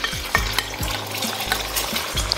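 Eggs fry in hot vegetable oil in a preheated wok, a loud close sizzle broken by repeated scraping strokes of a spatula about every half second.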